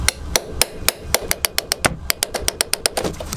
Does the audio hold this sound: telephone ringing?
no